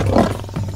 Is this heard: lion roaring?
yes